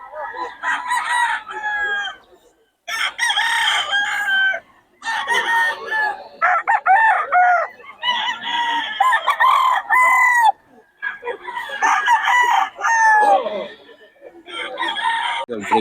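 Several young gamecocks (stags) crow over and over, with overlapping raspy cock-a-doodle-doo calls and some clucking. They are loud and close, packed into a noisy stretch of about sixteen seconds.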